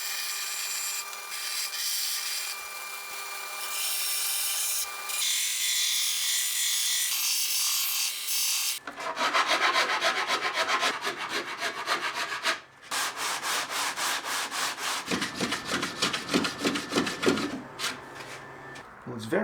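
Hand tapering of the wooden edges on a slimline acoustic guitar body: steady scraping and rubbing strokes, close and fairly loud, turning into a faster rhythmic rasp in the second half.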